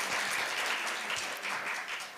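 Applause from a studio audience at a year-end Seoul party broadcast, a dense steady patter of many hands clapping for a couple of seconds, with no voices over it.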